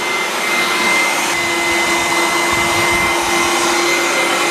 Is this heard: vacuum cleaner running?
yes